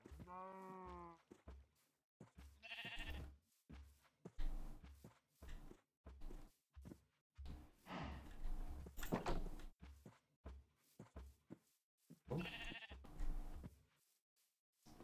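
Blocky Minecraft sheep let out several bleats, one at the start and more around the middle and near the end, spread between soft game sounds like thumps and door-like clatter, with no voices.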